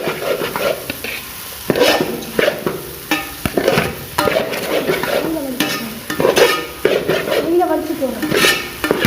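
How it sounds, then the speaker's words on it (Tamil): Boiled chicken noodles tossed and stir-fried in a pan with sauce and soy, a continuous sizzle broken by repeated scraping and clanking of a utensil against the pan, close and lively throughout. "வேக வச்ச நூடுல்ஸை போட்டுக்கலாம்."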